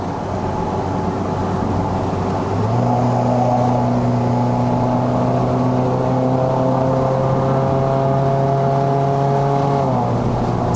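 A VW Golf 1.4 TSI R-Line revs hard at high rpm on a mountain climb, its loud engine tone climbing in clear steps as the automatic shifts up. The gearchanges fall near the three-second and ten-second marks, and no one speaks.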